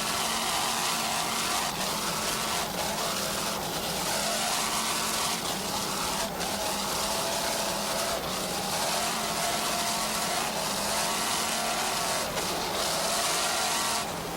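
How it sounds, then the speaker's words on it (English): Two 700-horsepower MRD inboard boat engines roar steadily at full throttle during an offshore race off Galveston Beach, a loud, continuous, dense drone heard from onboard with no voices. "Let's listen to those two 700 horsepower MRD inboards"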